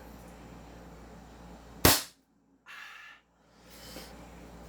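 A silver Desert Eagle toy gun fires a single sharp, loud crack followed by quiet, then a couple of fainter rustling sounds afterward.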